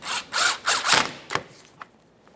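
A power tool drives a 10mm bolt into the front bumper cover of a 2014-2019 Toyota Corolla, with three loud close whirring bursts followed by a sharp click and fainter ratcheting taps.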